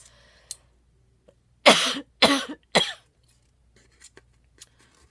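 Three harsh coughs from one person close by, the first drawn out and the next two shorter, with quiet pauses and faint small noises around them.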